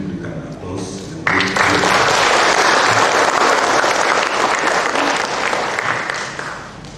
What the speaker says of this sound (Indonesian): Mohon seluruh hadirin memberikan aplaus